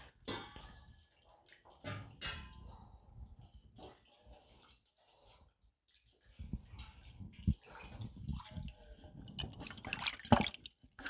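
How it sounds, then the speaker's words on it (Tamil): Rice-washing water is poured and splashed into a bowl of tamarind in uneven bursts, with dripping and liquid trickles, fairly close and quiet. "இதோட கொஞ்சம் நம்ம அரிசி கழுவின தண்ணியை ஊற்றி"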